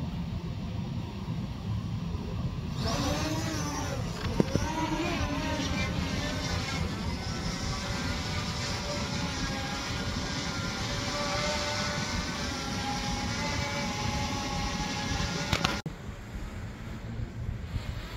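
A GPS drone, model S136, flies outdoors with a steady whirring motor drone under heavy wind noise, the pitch rising as it lifts off and holding through the flight.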